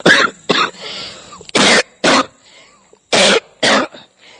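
A person coughs repeatedly, six harsh bursts in two pairs and singles, loud and close, with short quiet gaps between them.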